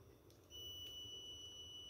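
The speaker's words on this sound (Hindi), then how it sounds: "बीप की आवाज़ आ रही है और रीडिंग आ रही है" A steady high-pitched continuity beep from a multimeter testing a refrigerator overload protector begins partway through and holds as a constant tone over low background hum.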